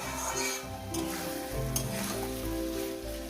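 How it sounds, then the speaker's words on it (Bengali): Spinach with small chara parshe fish sautéing in a hot pan, a steady close sizzle with occasional stirring scrapes and no voices. "শাকটাকে দিয়ে কষিয়ে নিতে হবে"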